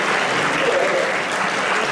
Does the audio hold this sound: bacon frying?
no